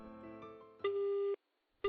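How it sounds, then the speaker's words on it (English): Phone call tones from the video game Strange Tales from Longchun, an unanswered call repeating a steady electronic beep, one long tone cut off into silence before the next tone starts, clear and alone. "Why can't I get through? The ringtone echoes over and over"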